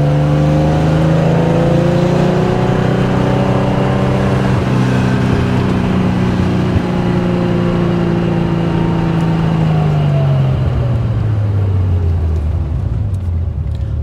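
A 1972 Porsche 911 T with a 2.8-litre fuel-injected flat-six drives along, its engine droning loud and close with harmonics climbing and falling through gear changes before settling and easing off toward the end, with no talk.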